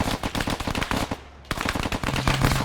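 Rapid automatic gunfire in Arma 3, loud and close, with dense bursts hammering on houses, a brief lull near the middle, then firing resumes steadily.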